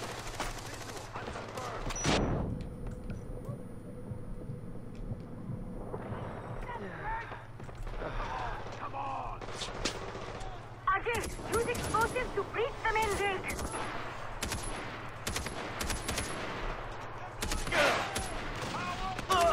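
Bursts of gunfire and explosions echo through a Himalayan open-world shooter battle, with a loud blast early, then irregular volleys of shots, as voices speak in between.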